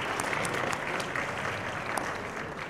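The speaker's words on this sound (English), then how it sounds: "Can you please have a huge round of applause once again?" A large event audience claps for the Dabangg the Tour team, a dense, steady wash of applause holding at an even level throughout with no voices over it.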